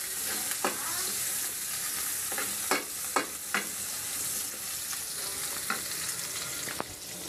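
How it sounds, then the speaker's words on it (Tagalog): Garlic and onion frying in hot oil for sarciadong galunggong, a dense continuous sizzle with a few sharp stirring knocks, close up and without talk. "uminit na yung mantika natin. Luluto tayo ng sarsyado, no? Ayan mga lods, lagay na natin yung mga bawang sibuyas doon"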